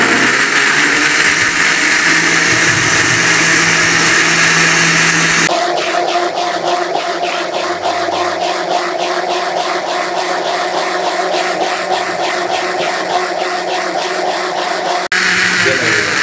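A commercial juice-corner blender whirs loudly while mixing apple milkshake with milk and milk powder, a strong rhythmic pulsing motor drone lasting most of the stretch, with louder, rougher noise before it.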